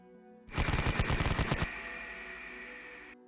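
Loud machine gun burst of about a dozen rapid shots in a tabletop wargame battle, then a long ringing tail that fades away.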